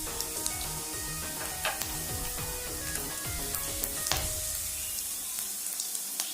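Whole garam masala spices sizzle in hot oil with a continuous crackling fry, punctuated by small pops and stirring scrapes, before easing off near the end.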